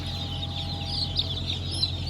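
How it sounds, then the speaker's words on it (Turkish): Chickens on a farm cluck softly and intermittently over a steady low hum, with a couple of sharper calls standing out briefly. "bu tavuk görüyor musunuz? Mesela bu tavuk."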